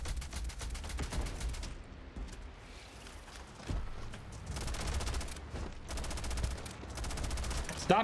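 Gunfire in the video game Starfield, using an AK: sustained rapid automatic fire rattles through most of the stretch in long bursts, with a brief lull partway and voices talking under it.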